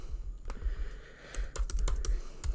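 Someone types on a computer keyboard nearby, with quick irregular clicks that cluster into bursts. The keystrokes are moderately quiet and stand alone without speech.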